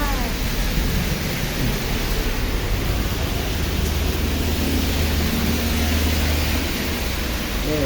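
Heavy rain pours steadily with wind on a road, a constant roaring hiss with a low rumble, filling the whole stretch without pause.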